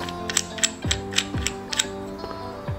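A nut on a Star Adventurer telescope mount is loosened, giving a series of close, crisp ratcheting clicks with a few heavier clunks, in an irregular rhythm with no talk.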